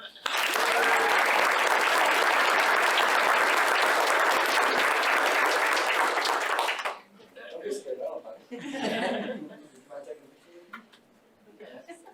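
An audience at a school board meeting breaks into loud, sustained applause for a student named Dylan for about seven seconds, then it fades into scattered chuckles and murmuring voices.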